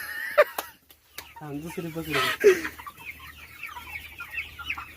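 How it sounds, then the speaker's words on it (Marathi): Country chickens on a village farm: a rooster and hens cluck in short, repeated bursts close by, with people talking over them. "हा हा तो तो कोंबडा कोंबडा"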